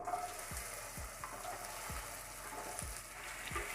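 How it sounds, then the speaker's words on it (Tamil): Finely chopped okra fries in hot oil in a pan, a constant close sizzle broken by about eight regular scraping stirs of a spoon against the pan. "சூடானத பிறகு நம்ம பொடிசா நறுக்கி வச்சிருக்க இந்த வெண்டைக்காயை அதல சேர்த்து ஃப்ரை பண்ண ஆரம்பிக்கலாம்."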